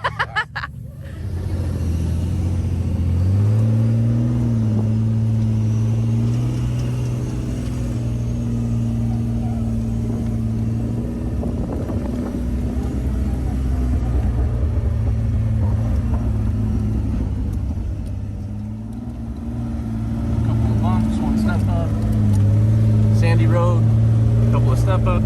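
An off-road vehicle rumbles steadily over slick rock on a spiny trail, its engine droning low and shifting pitch as it climbs and bumps along, with people talking over it throughout.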